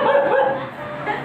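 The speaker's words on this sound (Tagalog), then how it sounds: "May kahulang aso." A dog barks and yips close by at a family christening and first birthday gathering, a brief burst of a few yaps with a faint whimpering edge amid background voices.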